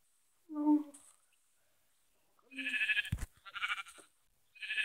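Sheep bleating in the video game Minecraft, a short bleat followed by a couple of louder bleats a few seconds later, with a brief hit sound between them and no talk.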